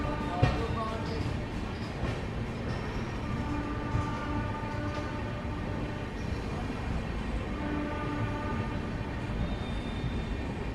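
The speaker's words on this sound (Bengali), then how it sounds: "ট্রেন ছেড়ে দিল আমাদের সাঁতরাগাছি থেকে" A passenger train on the Howrah to Digha line, running just after leaving Santragachi station, gives a steady rolling rumble with rhythmic wheel clatter heard from on board, and faint voices murmur in the carriage.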